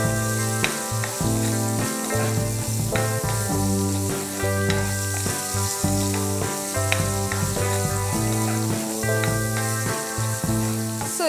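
Onions and green chilies frying in a pan give a steady loud sizzle throughout. A repeating pattern of tones runs across it, like background music, with no speech.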